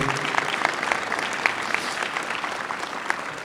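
An audience at a mayor's New Year wishes ceremony in Villars-les-Dombes applauds young people, with continuous, fairly close clapping holding an even level and a few sharper individual claps standing out.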